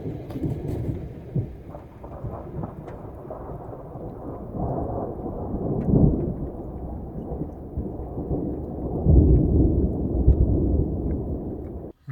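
A thunderstorm at Green River Lakes, Wyoming brings long, deep rolling thunder over steady rain. The rumble swells and fades several times and stays loud and continuous.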